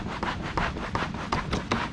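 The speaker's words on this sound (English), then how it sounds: "So I'm just going to spritz it with WD-40 a little bit, give it a wipe" Repeated rag strokes wiping plastic go-kart bodywork after a spray of WD-40, a soft rhythmic rubbing and swishing that pulses about every third of a second, close and fairly quiet, with no talking.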